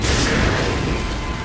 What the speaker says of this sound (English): And cause an explosion